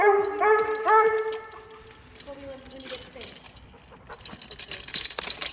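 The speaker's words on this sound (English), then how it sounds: "That is a loud dog I've got." A loud dog barks three times in quick succession at the start, close by, followed by quieter whimpering yips as a person speaks outdoors.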